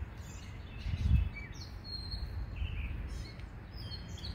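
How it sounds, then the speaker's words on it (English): Small birds chirp and sing outdoors in short, faint, scattered calls over a low background rumble, with no voices. "Do you hear the birds?"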